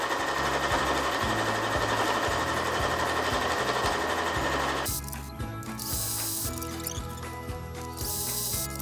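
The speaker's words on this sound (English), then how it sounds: "So now what I'm going to do is just create another row of stitches on the other side of the seam." A sewing machine runs a row of stitches along a seam on a quilted patchwork bag, a fast, even mechanical chatter close by that briefly dips in pitch midway and then resumes steadily.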